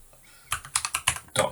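Keys click on a computer keyboard as a search term is entered into a web browser, giving a short quick run of sharp, close taps with no voice.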